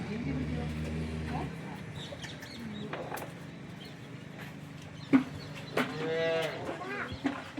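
A local Banaskantha cow moos loudly nearby, a drawn-out call near the end, with faint clucking and a low hum in the background.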